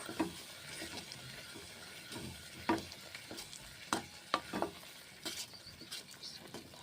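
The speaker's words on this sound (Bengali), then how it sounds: "নেড়ে চেড়ে রান্না করে নিচ্ছি এই যে দেখুন বড়ি পোস্ত রান্না করছি" Bori posto cooks in a pan while a utensil stirs it, producing repeated close scrapes and clacks over a faint bubbling sizzle in an irregular rhythm.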